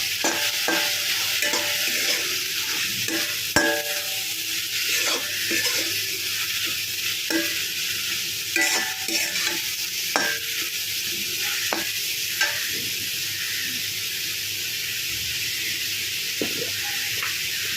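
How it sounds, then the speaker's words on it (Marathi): Food frying in a pan is stirred with a utensil, giving a loud constant sizzle punctuated by repeated scraping strokes and knocks at an uneven rhythm, close up and without talk. "ते छान असं त्याच्यामध्ये मिक्स करून घेणार आहोत"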